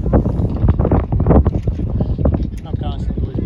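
Wind blows across an outdoor soccer field during a match, buffeting the microphone with loud, continuous, gusty roaring.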